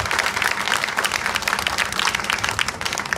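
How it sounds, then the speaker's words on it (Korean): Crowd applause at a political speech rally, a dense steady patter of many hands clapping at moderate distance for a few seconds. "여러분 격려의 박수 한번 보내주시기 바랍니다."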